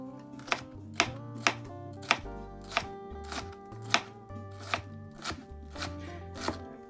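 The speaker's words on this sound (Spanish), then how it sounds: "Y vamos a picarla." A knife chops a bell pepper on a cutting board for a snail dish: a dozen or so crisp, evenly spaced thuds close by, with soft background music beneath.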